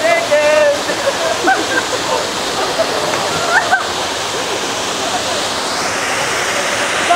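Waterfall and river at Salipit Falls in Alfonso, Cavite, roaring as a steady, loud broadband rush of falling water throughout, with people talking over it.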